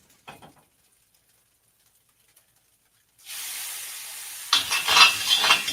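Meat hits a hot wok and sizzles during stir-frying, a soft click giving way to a rising, steady hiss that swells louder with spattering crackles near the end, with no voices.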